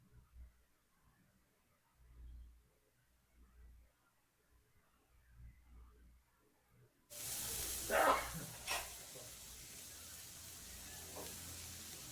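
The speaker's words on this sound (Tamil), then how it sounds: "நல்லா கிளறி விட்டுக்கிறேன்" After quiet low murmurs, a loud sizzle of chopped snake gourd hitting hot oil erupts, with scraping stirs in the frying pan.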